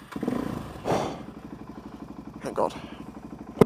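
A motorcycle engine sputters and cranks, catching briefly with a putter and thumps among clattering handling noises, while a person speaks close by.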